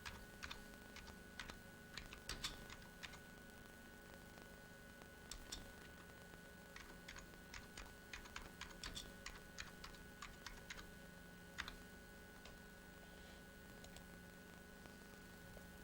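Quiet, close computer keyboard typing comes in bursts of irregular clicks over a faint steady hum, with no voices.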